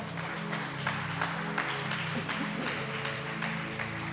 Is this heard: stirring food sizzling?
no